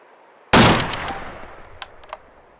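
An M24 sniper rifle fires a 7.62x51 round in the video game Arma 2, a single sharp, loud crack followed by a long fading echoing tail with a couple of faint distant knocks.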